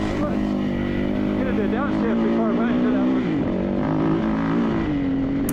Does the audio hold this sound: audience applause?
no